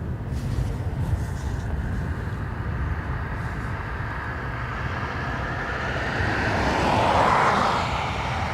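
A fixed-wing airliner takes off from runway 28 right at Dublin Airport, its engine roar steady and broad throughout, swelling louder near the end as the plane climbs past, with no talk over it.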